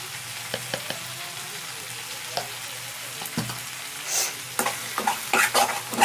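Chili powder frying in oil with mashed brinjal and raw mango curry, stirred with a spoon: a low bubbling sizzle broken by sharp scraping taps against the pan that grow busier toward the end, close and without speech.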